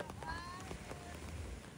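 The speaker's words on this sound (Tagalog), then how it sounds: "So medyo lakas-lakas konti yung ulan mga kaisla." Fairly heavy rain patters steadily on surfaces outdoors on Boracay Island, a dense continuous hiss of drops close by over a short stretch.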